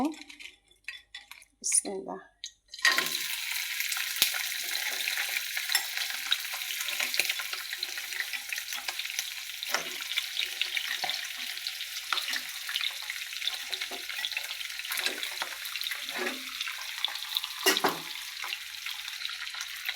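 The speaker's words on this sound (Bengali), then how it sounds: "আমি প্রথমে এই কাঁকড়াগুলোকে তেলে ভেজে নিব একটু" Crabs frying in oil at home, a loud continuous crackling sizzle that starts abruptly after a few seconds of quieter kitchen sounds, with occasional clinks of utensils throughout.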